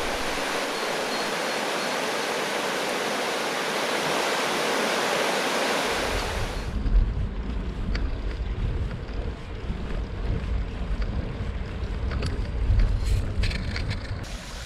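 A rushing stream churns steadily as broadband water noise, loud and continuous, with wind buffeting the microphone in the second half during a bicycle tour in Germany.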